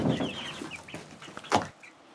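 Backyard hens cluck in short, irregular bursts as they scratch through a handful of hen scratch feed on a homestead, with a sharper, louder cluck near the end and a quiet pause after.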